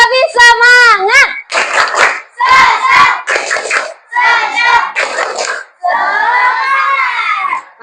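A fourth-grade class of children doing a rhythmic clapping cheer, shouting chanted words in unison between bursts of claps, loud and close in a classroom.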